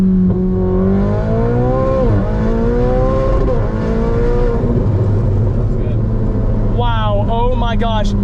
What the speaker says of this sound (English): It goes to the limiter so fast.